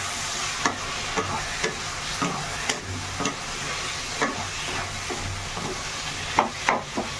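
Boiled potatoes being mashed and stirred in a pot for Odia-style aloo chokha, a steady scraping and squishing with soft repeated knocks of the spoon, close and fairly loud, with no talking.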